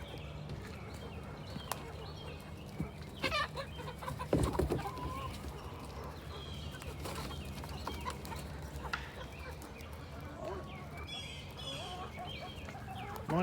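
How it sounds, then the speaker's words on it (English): Chickens cluck and mutter steadily at morning feeding time in a muddy yard, with scattered scratches and thumps and a few louder squawks over a low background hum. "Morning, chickens."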